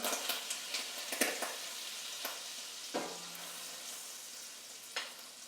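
Chicken pieces frying skin side down in a pan during a cooking class, a dense continuous sizzle with small pops and crackles throughout, steady and close, without talking.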